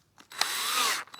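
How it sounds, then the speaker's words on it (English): A power drill spinning a hard nylon pipe whirs steadily for most of a second on a Peugeot 304, a close, loud grinding spin that starts abruptly and cuts off. "I use a piece of this hard nylon pipe, attach it to my drill, and send that down there spinning"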